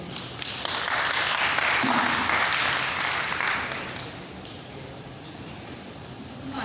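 Audience applause fills the room, a dense burst of clapping that swells and then slowly fades out over several seconds.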